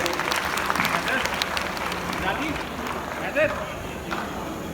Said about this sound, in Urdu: آپ کے لیے میں تالیاں بجانا چاہتا ہوں